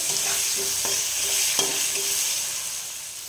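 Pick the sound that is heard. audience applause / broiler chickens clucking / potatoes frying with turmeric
potatoes frying with turmeric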